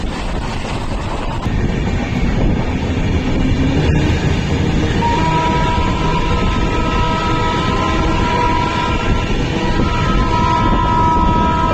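A Goa Sampark Kranti Express train rumbles steadily at speed through Bayana Junction station without stopping, with continuous clattering wheel noise and wind buffeting, a faint tonal squeal rising partway through.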